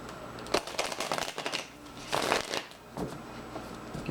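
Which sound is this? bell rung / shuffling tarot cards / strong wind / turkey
shuffling tarot cards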